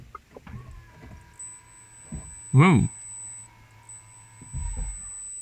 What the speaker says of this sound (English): So the car has locked itself